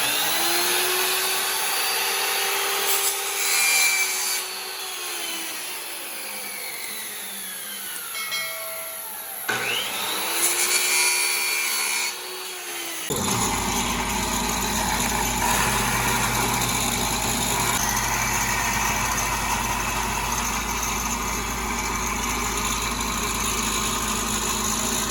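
A power tool cuts and rounds the corners of wooden rod holders for a kayak crate: a motor whine that rises and falls in pitch, then a loud, steady grinding roar that runs to the end.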